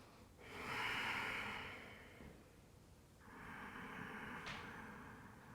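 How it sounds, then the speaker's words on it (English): Slow, deep breaths during a yoga session, a long airy inhale followed by a steady exhale, close and fairly loud with no talking. "a couple nice deep breaths here."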